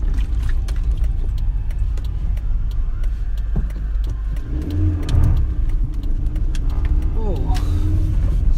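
A car engine idles and runs with a low, continuous rumble, close and steady, with occasional rising tones and clicks as a voice speaks over it.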